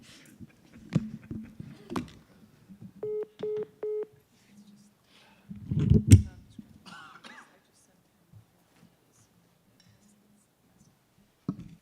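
Telephone keypad beeping as a voicemail number is dialed in a meeting room, three or four short, evenly spaced tones among nearby throat clearing, coughs, clicks and murmured talk.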